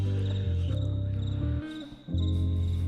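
A cricket chirps steadily through a music track, its thin high pulsing riding over loud sustained low bass notes, faint and continuous in the background.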